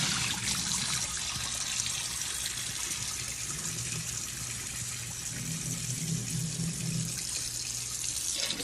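Tap water runs steadily into a sink while rice is given its final rinse, a continuous close splashing gush with a low rumbling undertone that holds from start to finish.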